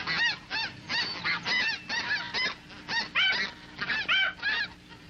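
A flock of snow geese honks in rapid, overlapping calls over a Texas marsh, a busy chorus coming from some distance.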